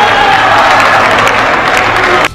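A large audience applauds loudly and continuously after a joke about Brazil. The dense clapping holds steady and then cuts off abruptly near the end.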